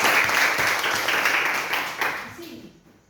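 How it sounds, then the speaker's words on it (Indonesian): Classroom applause from a group of students, dense clapping at moderate volume that fades out over about three seconds, ending with a brief low voice. "Tepuk tangan dulu."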